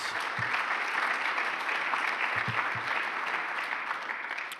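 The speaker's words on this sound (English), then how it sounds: "please give them a round of applause" An audience at a public forum on education in Maine claps steadily for several seconds, a dense even wash of applause from a moderately sized crowd.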